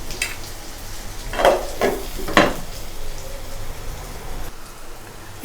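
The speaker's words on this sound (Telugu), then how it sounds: "ఇట్లా బాగా ఫ్రై చేసుకోవాలి." Stuffed bitter gourd frying in a pan gives a steady soft sizzle, with a few louder crackling bursts and stirring scrapes partway through and no voices.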